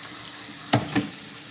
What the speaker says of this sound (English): I'm just going to use cold water on our pasta. Rinsing it off.